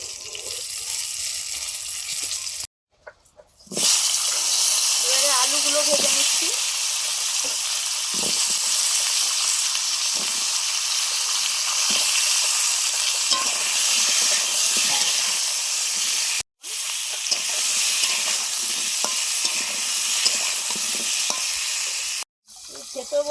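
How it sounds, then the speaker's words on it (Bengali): Brinjal pieces lightly frying in oil give a loud, continuous sizzle with scraping and stirring, cut by a few short silent breaks, and nobody speaks over them. "বেগুনগুলো হালকা ভেজে তুলে নিচ্ছি"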